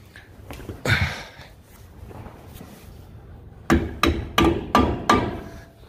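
Sharp metallic hammer blows drive a bushing into a Kuhn ProPush manure spreader, one early strike followed by a quick run of five loud, evenly spaced hits close by.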